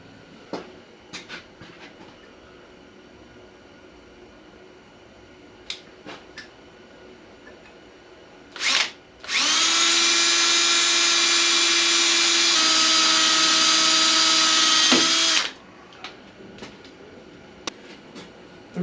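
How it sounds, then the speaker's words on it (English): A drill grinds into a metal motorcycle tank with a loud, steady, high whine lasting several seconds, stepping through bits up to a half inch, framed by scattered quiet clicks and taps before and after. "And now I'll start drilling."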